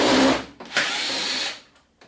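An electric screwdriver whirs in two short close bursts while backing screws out of a cracked-screen TV during a teardown, with a brief pause between the runs and no talking.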